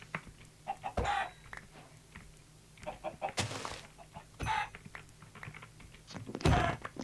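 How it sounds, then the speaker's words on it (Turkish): Minecraft chickens cluck in short, scattered bursts with brief squawks and soft thumps between them, fairly quiet and close by. "Tavuk. Gelin lan buraya."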